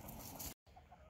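Chickens let out of their coop, soft clucking and hen chatter close by with a brief cut of silence midway.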